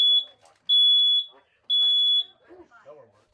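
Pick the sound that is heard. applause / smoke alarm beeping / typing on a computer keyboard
smoke alarm beeping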